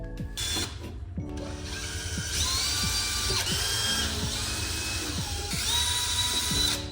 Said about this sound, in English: I drilled the pilot hole, and then I drilled the bigger hole